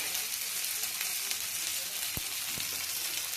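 Ginger and green chilli paste sizzles steadily in a hot pan, a dense continuous hiss with two brief soft knocks near the end and no voices.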